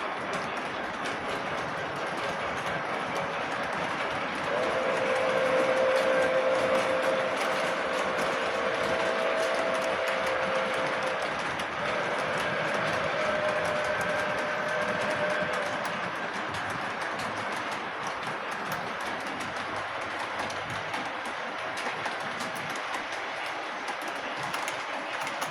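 A model train pulled by a Pere Marquette Berkshire 1223 locomotive, running with a Grand Trunk caboose, hums and clicks steadily along the track at moderate volume, with a faint whining tone rising in the middle stretch.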